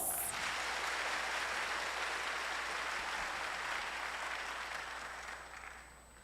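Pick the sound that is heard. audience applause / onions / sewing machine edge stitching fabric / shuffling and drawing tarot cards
audience applause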